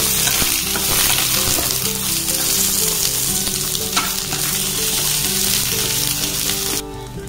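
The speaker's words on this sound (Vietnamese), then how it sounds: "Và nóng lên rồi thì mình sẽ cho cà rốt vào và mình xào. Xào khoảng 4-5 phút cho chín mềm nhé." Carrots stir-fry in a hot pan, a loud, steady sizzle and crackle with occasional scraping from stirring, running continuously up close.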